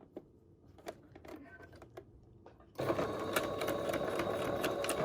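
A sewing machine back-stitches elastic onto a fabric filter mask, first a few faint clicks and taps, then a loud steady mechanical whir of stitching, close up, with a brief voice in the background.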